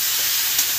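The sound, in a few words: stirring frying tomatoes with turmeric and salt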